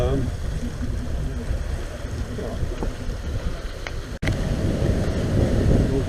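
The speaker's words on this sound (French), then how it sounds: "on n'a plus de moteur, on n'a plus rien, on fait de la voile" A sailboat under sail with its engine off, passing between rocks and the coast: steady wind rush and water noise fill the scene, with a brief dropout partway, and a voice talks over it.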